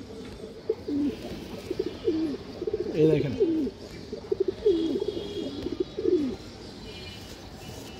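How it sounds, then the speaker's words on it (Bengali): Several pigeons coo in low, repeated rolling phrases up close among a loft of fancy breeds, with bird chatter in the background and someone briefly speaking over them. "এই দেখেন দর্শক খুবই চঞ্চল একটা কবুতর"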